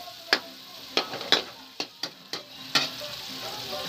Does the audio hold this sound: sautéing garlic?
yes